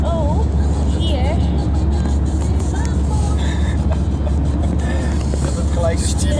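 In-game car driving in Minecraft: a steady, loud engine drone runs throughout with no letup, with voices chattering faintly over it.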